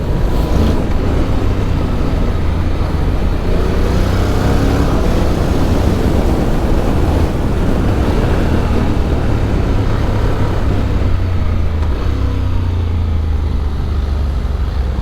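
A 2025 Honda Forza 750 scooter pulls hard along a winding road, its engine droning continuously and loudly with heavy wind rush throughout and no voices.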